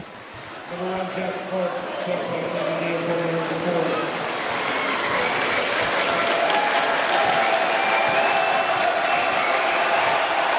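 A crowd at a boys high school basketball game applauds and cheers after a made free throw, a broad sustained roar of clapping in a gym that builds over a commentator's voice early on.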